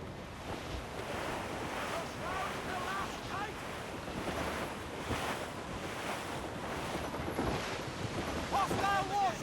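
Squall wind roars over ocean waves at sea in Assassin's Creed Rogue, a constant loud rushing wash of wind and surf with swells rising and falling throughout.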